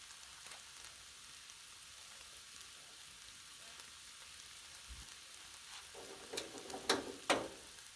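Seafood stir fry sizzles steadily on a flat griddle, a continuous hissing fry bed with a few sharper crackles and spatters near the end.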